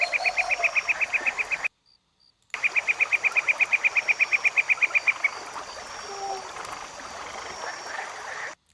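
A produced rainforest soundscape with an added cricket track: rapid, pulsing chirps in even trains over a dense bed of frog croaks and insect hiss, cut by a brief silent gap before the chirping resumes and fades.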